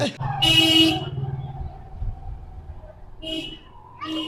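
A passing car gives one loud horn toot near its start, with engine noise under a voice, then shorter, fainter honks near the end outside a temple.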